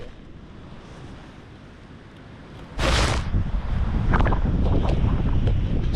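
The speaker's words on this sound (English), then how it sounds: "it's pretty windy." Strong wind blows outdoors in a garden by raspberry plants, a low rumbling roar that gusts sharply and loud partway through, buffeting the microphone and staying heavy afterward.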